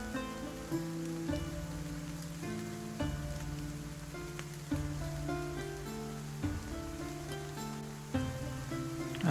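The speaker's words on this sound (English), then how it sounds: "You wake the next morning and it seems to be raining a little bit harder." Ambient rain effect for a tabletop role-playing session: a continuous patter of rainfall on a surface, layered under steady background music, with no voices.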